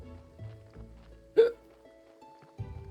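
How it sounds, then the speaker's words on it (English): A single sharp hiccup in the video game Graveyard Keeper, loud and sudden against a quiet backdrop of soft tonal game music. "Hiccups."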